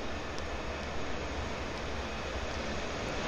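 Tram approaching at Pyrmont Bay on an L1 light rail line toward Central, heard as a steady, moderately loud broadband rumble and hiss that holds even throughout, with no voices.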